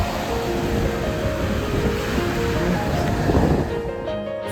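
Sea waves washing onto the shore near Vladivostok, a continuous loud rushing surf with wind noise and a faint swell of breaking water, without speech.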